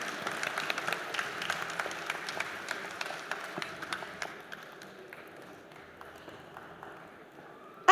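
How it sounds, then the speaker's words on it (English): Audience applause at a QE Conclave 2025 quality engineering conference: scattered, moderately distant clapping from a crowd that thins and fades over the second half, ending almost silent. "Ladies and gentlemen, can we have a huge round of applause"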